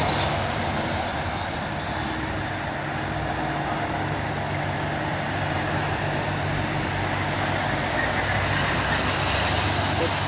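A green Hino truck rolls past on a road under an overcast sky, its steady engine rumble and tyre noise forming a continuous broadband roar that holds fairly constant throughout.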